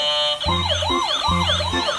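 A toy police car's electronic siren wails in repeating rising and falling sweeps, loud and close, with a pulsing low tone underneath and no talking.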